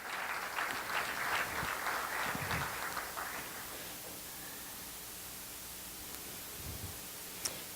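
Audience applause for Angie Giesling at a conference on stage, a moderate burst of clapping for the first three seconds that fades out, leaving quiet room tone with a small click near the end.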